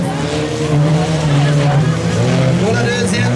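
Four-cylinder jalopy race cars roar loudly and close at a July 2019 demolition race qualifying heat in St-Ferdinand, with revving engine tones and tire noise, and an announcer's voice mixed in.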